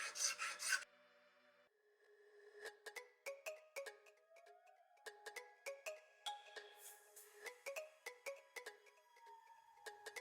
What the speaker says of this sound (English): this ain't a shuriken before the tips are beveled, and for that I will use my metal file.